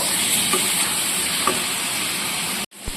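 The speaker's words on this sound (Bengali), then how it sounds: "এবার ভালো করে কষিয়ে নেব।" Potatoes stir-fry in a pan for kosha aloo dum, a dense steady sizzle with faint scraping, close and loud, cutting off abruptly near the end before a brief knock.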